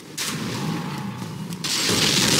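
A flaming boulder slams into the player in Dark Souls, a loud, sustained rumbling roar lasting a couple of seconds and swelling louder toward the end, with no talk over it.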